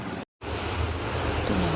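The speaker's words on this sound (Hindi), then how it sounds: "यहाँ देखिए आज हो रही है जम के बारिश, यहाँ ऊपर से पूरा पानी आ रहा है" Heavy rain pours down outdoors with water streaming from above, a steady, broad rushing wash broken by one brief dropout near the start.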